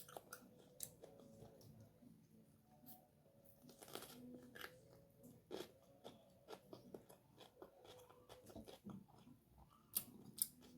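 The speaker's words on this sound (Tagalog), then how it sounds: "Malutong yung cheesy, malutong yung bell pepper." Biting and chewing cheesy cream-cheese-stuffed bell pepper, heard as scattered close, crisp crunches and wet mouth clicks in an irregular rhythm, quiet overall and without talking.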